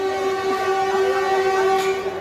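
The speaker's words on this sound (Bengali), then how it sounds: "পাশে ট্রেন যাচ্ছে।" A train runs past nearby on a trip toward Tarakeswar, a steady loud rumble with a sustained tonal horn-like whine throughout, no talk.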